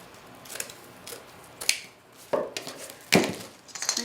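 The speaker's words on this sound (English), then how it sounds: "I'm going to take one of the squares of the poly mesh, and I'm going to cut it a little bit smaller into just a smaller square." Scissors make a few crisp, separate snips while cutting a square of poly mesh smaller. Close and sharp, with short gaps between cuts.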